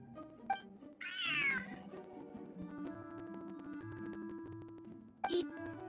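A cat meows in the Genshin Impact video game, with two or three short, bright meows, the longest near the start, over soft game music.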